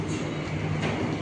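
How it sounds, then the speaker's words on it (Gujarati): An airport shuttle metro train heading to the arrivals section rumbles along at close range, a steady rolling hum with a faint rattle of the car, no voices. "આ ટ્રેન ડાયરેક્ટ પહોંચાડશે હવે અરાઇવલવાળા સેક્શને"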